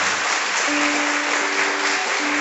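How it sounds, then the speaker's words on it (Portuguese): A church congregation applauds for Jesus during a worship service, producing a dense, even wash of many hands clapping together. It is loud and sustained for the whole moment, with no speech over it. "Dê uma salva de palmas para Jesus"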